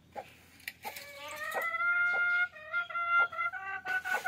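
Several kurak (broody) hens cluck and squawk close by in short repeated bursts, with one drawn-out call rising above the rest.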